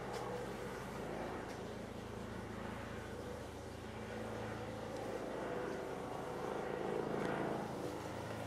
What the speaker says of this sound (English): So I've just been outside filming this fake helicopter, definitely fake helicopter